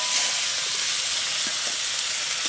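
Oil sizzling in a wok with a pinch of nigella seeds, a steady bright hiss that is continuous and fairly loud, without any talk over it.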